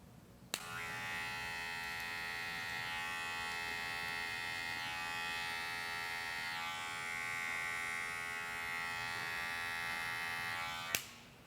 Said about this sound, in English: Use my clipper over comb technique to get rid of the bulk from the mid-parietal ridge to the top.